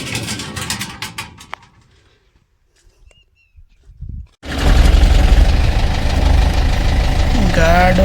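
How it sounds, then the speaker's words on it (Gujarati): Mixed sounds and quiet give way to a tractor engine starting up and idling loudly with a steady rumble close by. "હવે આવશે ટ્રેક્ટર"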